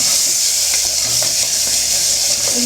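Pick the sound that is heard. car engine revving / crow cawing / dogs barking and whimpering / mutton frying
mutton frying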